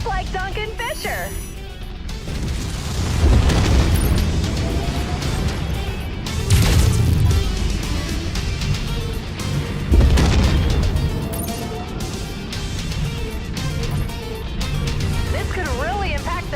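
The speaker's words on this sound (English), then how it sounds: "That was a big explosion." A robot blows apart during a combat match in a stompy robot video game, with heavy booming crashes around four, seven and ten seconds amid a continuous clattering battle din, while a commentator talks throughout.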